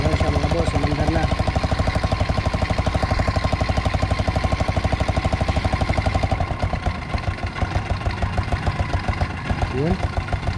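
A Yamaha Crypton Z 110 motorcycle engine idles steadily after a CDI replacement, a loud, close, rapid even putter that continues throughout with slight variation near the end, with no talk over it.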